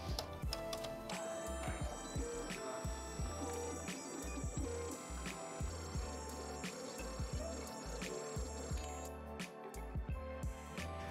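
A Voltera V-One PCB printer printing circuit traces on a board, giving a steady mechanical whir with a continuous tonal hum and soft ticking motor steps at moderate distance, with no talk.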